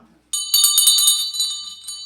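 A small bell, tested as a timer, rings out sharply in a quick series of bright metallic strikes that ring briefly and fade, loud and close against a silent background.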